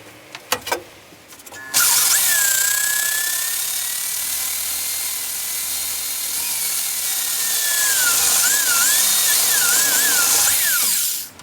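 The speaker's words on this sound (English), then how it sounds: "we'll go drill our holes under the dash" A power drill bores mounting holes for a custom speaker beneath the dashboard of a 1973–87 Chevrolet C10 pickup; after a few short clicks and bumps, a loud, steady whine runs close for about ten seconds, then stops.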